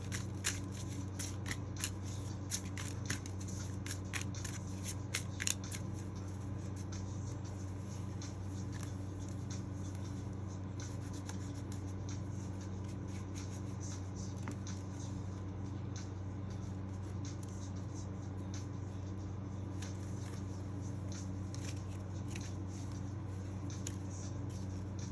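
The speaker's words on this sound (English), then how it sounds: "I just wanted to give the cards a good shuffle before we start pulling from the deck." Quick crisp clicks of cards being shuffled come in bursts during the first few seconds, then fade, leaving a low steady hum in the background.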